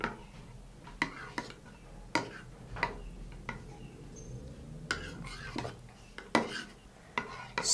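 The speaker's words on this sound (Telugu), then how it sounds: "ఇప్పుడు ఇందులో మనం సబ్జా గింజలు, లెమన్ జ్యూస్ అండ్ తేనె, ఈ 3 ఇంగ్రీడియంట్స్ని మనం బాగా మిక్స్ చేసుకోవాలి" Sabja seeds, lemon juice and honey are mixed in a bowl, with repeated light clinks and taps of a spoon against the container at an irregular pace, fairly quiet and close.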